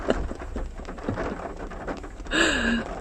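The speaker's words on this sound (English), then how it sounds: "because it's raining," Steady rain falls close by, a soft continuous patter with a low rumble beneath, briefly joined near the end by a high chirping sound.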